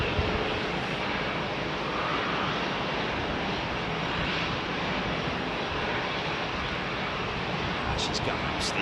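A Singapore Airlines Airbus A380 departing London Heathrow runway 27R climbs steeply, its engines a dense, sustained low rumble at steady loudness, with a few brief clicks near the end.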